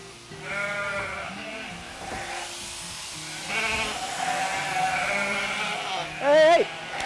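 Ewes bleat repeatedly on a farm's summer shearing day, with about 300 sheep being sheared; several wavering cries rise over a steady background hum, and a voice talks through much of it.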